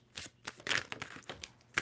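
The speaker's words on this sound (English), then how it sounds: "2 more shuffles for Sagittarius." A tarot card deck being shuffled by hand, a series of soft riffling and slapping bursts in an uneven rhythm, close and fairly quiet with no talking.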